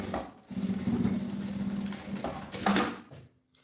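A sewing machine stitches a fabric lining in two close bursts of rapid mechanical whirring and needle chatter, separated by a short pause, with no talking.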